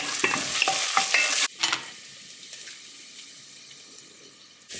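Onion, garlic and whole spices (cumin, cloves, green cardamom, star anise, black pepper) sizzle in a pan with stirring scrapes, loud and close for about a second and a half, then a softer, fading fry with occasional clinks.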